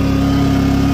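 A petrol generator engine runs at a steady, loud mid-pitched drone with a strong constant hum, close by and alone.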